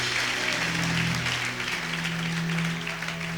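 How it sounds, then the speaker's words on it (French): Congregation applauding loudly and steadily in a French-speaking church service, a continuous wash of clapping hands with no talk over it. "Acclamons fort pour le Seigneur."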